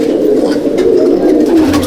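Two black male pigeons, brothers of the same generation in a Madrasi pigeon loft, coo loudly and close by in a steady, rolling throaty drone with no voices.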